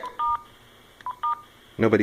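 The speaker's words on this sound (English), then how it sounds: "I can dial a code on here" Short, clean telephone keypad tones on a phone system network interface dial a code, several crisp beeps in quick bursts, followed by a brief burst of other sound at the end.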